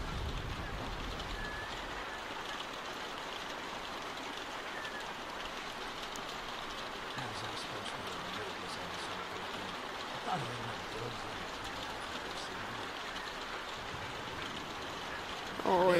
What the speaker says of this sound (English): Sitting out in the rain like a damn deer.